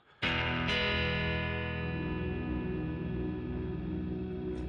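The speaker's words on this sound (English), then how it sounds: "since I'm just holding the reverb right now" A Dark Star Stereo reverb pedal sustains a held chord after two sharp plucked attacks, the wash ringing densely and evenly for several seconds with a slight final pluck near the end.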